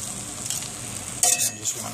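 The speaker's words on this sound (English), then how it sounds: "Take the top off. And it's sizzling." Steady frying sizzle with a hissing crackle of bacon in a Dutch oven over a fire, briefly louder as it is stirred or moved in the pan.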